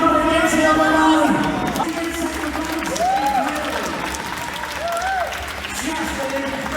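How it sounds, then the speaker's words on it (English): Crowd applause after a Gran Turismo Sport race, a dense wash of clapping and cheering at an event, with a voice talking over it and faint tonal sounds beneath. "Big round of applause for all the drivers involved, please."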